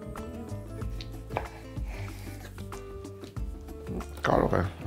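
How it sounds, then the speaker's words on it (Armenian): A knife chops beef liver into small cubes on a board, several separate thuds in an irregular rhythm, close by, with a few liquid squishes, and a low voice talking underneath. "կտրատում ենք 1 սանտիմետր կողմերով խորանարդիկների։"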